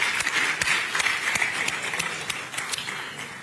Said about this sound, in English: give all of us a round of applause